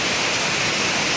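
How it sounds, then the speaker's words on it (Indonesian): Steady roaring rush of the Saluopa waterfall at Tentena, a dense broadband wash of falling water that fills the whole moment without variation. "kami lagi berada di air terjun Tentena."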